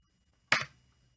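One sharp clap of two hands struck together in a quiet room, a single brief crack that fades quickly, heard alone.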